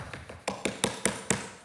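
Knocking on a house door, five or six crisp, evenly spaced raps in quick succession, close and fairly loud against a quiet background with no voices.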